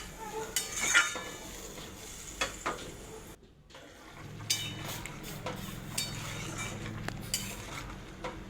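A curry being stirred in a cooking pot after sugar and water are added, with scattered utensil scrapes and clinks against the pot over a low simmering bubble, no talk.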